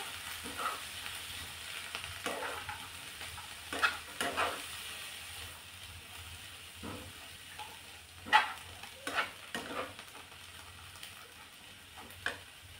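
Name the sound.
stirring soaked chana dal into cabbage bhaji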